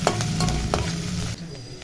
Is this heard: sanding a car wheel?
no